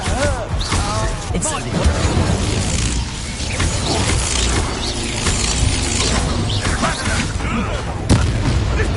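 A Confringo blasting spell bursts in the Hogwarts Legacy video game amid a steady barrage of booms, shattering debris and clanking combat noise, loud throughout with a sharper hit near the end, while a voice talks over it.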